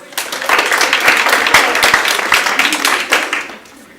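An audience applauding a volunteer called up to the front, a few seconds of steady clapping that swells quickly and fades away at the end.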